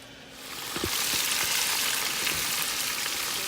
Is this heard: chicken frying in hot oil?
yes